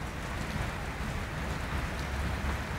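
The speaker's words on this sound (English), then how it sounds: "It's absolutely hosing with rain here." Heavy rain pours down in a dense, steady, broadband hiss with no pauses, loud and close, with no voices.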